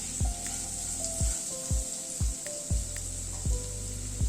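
Papaya pieces frying in a pan with salt and turmeric, a soft continuous sizzle punctuated by about eight rhythmic scraping stirs of a spatula, close and fairly quiet.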